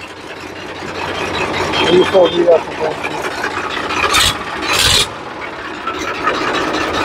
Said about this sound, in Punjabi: ਲਓ ਜੀ ਦੇਖ ਲਓ ਆਵਾਜ਼ ਟਰੈਕਟਰ ਦੀ